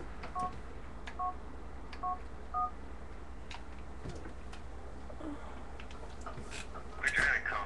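A phone in the video game GTA 4 plays a short run of dialing tones, several brief beeps close together, then goes quiet over a low game hum with faint talk in the background.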